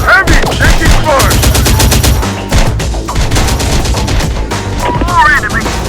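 Sustained automatic gunfire in the video game Terminator Dark Fate Defiance, with rapid loud bursts and booming shots layered over frantic shouted battlefield voices and a continuous dense combat din.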